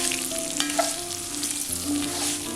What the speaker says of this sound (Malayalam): ഇനി ഇത് നന്നായിട്ടൊന്ന് ഇളക്കി കൊടുക്കാം.